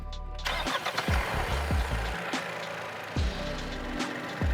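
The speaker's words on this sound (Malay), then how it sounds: "mungkin boleh start enjin." A three-cylinder engine in a Proton X50 cranks and catches at Sepang circuit. Several short low thumps are followed by a steady, rough idle with slight shaking pulses, heard close up and loud.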